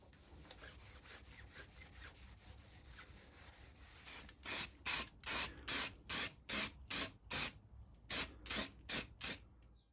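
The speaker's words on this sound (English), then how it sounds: "go around it with a liquor gloss black, and we'll get these looking brand new on the cheap" Aerosol can of gloss black paint spraying motorcycle wheels on a Yamaha R1 superbike restoration, heard as a run of about eleven loud, close hissing bursts of roughly half a second each in a steady rhythm, following quieter faint rubbing.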